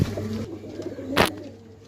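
Pigeons coo in a low, throaty burble close by, with a short sharp rustle partway through the brief moment.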